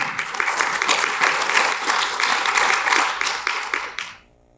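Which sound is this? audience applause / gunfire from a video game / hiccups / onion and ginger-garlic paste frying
audience applause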